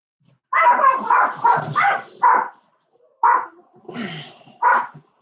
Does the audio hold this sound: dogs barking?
yes